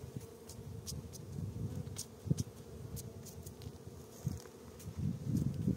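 Honey bees buzzing around a hive during a honey harvest from a weak colony, a soft continuous low hum with occasional rustles and clicks, faint and steady without speech.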